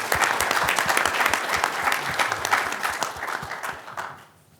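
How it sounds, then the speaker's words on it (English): Audience applause for conference organizers at a hotel owners' association convention session, a dense sustained clapping from a large crowd that holds steady for about four seconds and then fades out. "let's give them a big round of applause"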